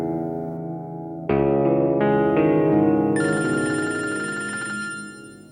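A telephone rings after a call is dialed, starting with a softer tone and then jumping to a loud electronic ringtone that layers brighter notes before fading at the end, with no talk.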